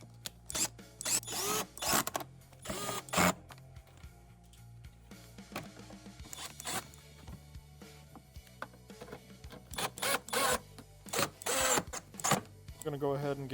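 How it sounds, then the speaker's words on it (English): A power screwdriver drives screws back into a Frigidaire Gallery dishwasher during a button control switch repair, in several short whirring bursts separated by pauses, close and fairly loud, with occasional clicks and handling noises between them. "Got to put all the screws back into place."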